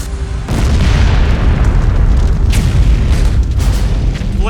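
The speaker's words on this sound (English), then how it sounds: "Flames shoot 400 feet into the air as the chemical tanks ignite" Chemical tanks holding highly toxic, flammable contents rupture and ignite from intense heat, throwing flames 400 feet high: a sudden loud, deep boom after brief quiet, then a sustained heavy rumbling roar with crackling bursts throughout, close and without speech.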